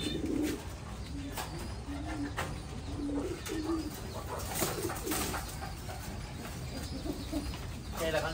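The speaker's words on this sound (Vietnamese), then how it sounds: "Đây là con chim bồ câu titan siêu thịt của Thái nha mọi người." Thai titan pigeons cooing in soft repeated low calls, close by, over a background of other faint bird chirps and some quiet human voice.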